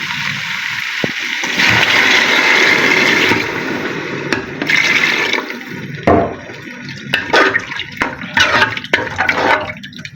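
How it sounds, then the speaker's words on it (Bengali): Water is poured into a pot of beef curry that has half-cooked meat, making a loud gushing pour for a couple of seconds, then a second burst, followed by scattered splashes, clinks and stirring noises. "এখন হচ্ছে গিয়ে পানি দিয়ে দিব।"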